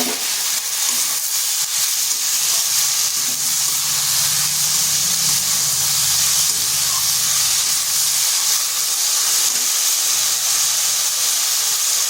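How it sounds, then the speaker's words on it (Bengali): Grated, drained potato goes into a hot pan and sets off a loud, broad sizzling hiss that holds steady for the whole stretch, close up and without talk. "এরপর এখানে দিয়ে দিচ্ছি একটা আলুটাকে এভাবে গ্রেট করে জল ঝরিয়ে রেখেছিলাম"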